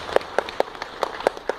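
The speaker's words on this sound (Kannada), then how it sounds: "ಚಪ್ಪಾಳೆ." A few crisp handclaps ring out at a steady, evenly spaced beat, about six sharp slaps in quick succession, close and fairly loud with little else around them.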